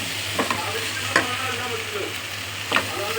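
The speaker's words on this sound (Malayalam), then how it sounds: "മഞ്ഞളും ഇച്ചിരി ബിരിയാണി മസാലയും കൂടി ഇട്ട് ഒന്ന് വഴറ്റി കഴിഞ്ഞിട്ട് നമ്മൾ മാറിനേറ്റ് ചെയ്ത് ചിക്കനും കൂടി ഇട്ട് വേവിക്കുകയാണ് ചെയ്യുന്നത്" Marinated chicken fries in a pan with turmeric and biryani masala for a Thalassery chicken dum biryani. A steady sizzle runs underneath while a spoon scrapes and stirs in a few distinct strokes.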